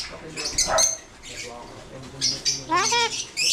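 Pigeons at a loft in Marikina give short chirps and coos near the start and end, mixed with people talking and calling to them close by.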